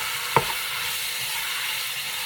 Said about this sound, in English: the meat is starting to brown up. So I'm just gonna stir that.